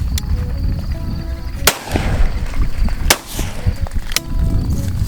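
Sharp shotgun blasts ring out during a dove hunt outdoors, three loud separate cracks spaced about a second and a half apart, close by, with rustling and faint background noise between them.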